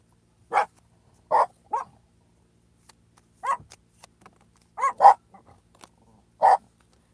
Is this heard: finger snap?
no